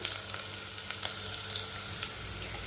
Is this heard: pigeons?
no